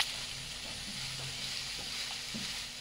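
Vegetables including carrots frying in a pan over a medium flame, a steady soft sizzle with faint occasional stirring clicks, heard alone and close.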